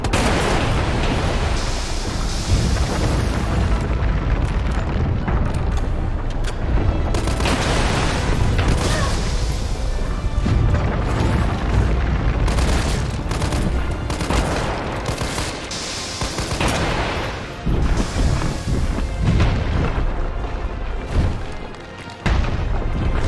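Grenade explosions and gunfire in the Resident Evil 3 Remake video game come as a dense, loud, continuous barrage of booms and shots that barely lets up over the whole stretch.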